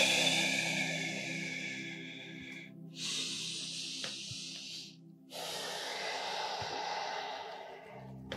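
Slow, deep breaths drawn during a guided yoga stretch, long smooth airy inhales and exhales in three broad swells close to the mic, with no talking.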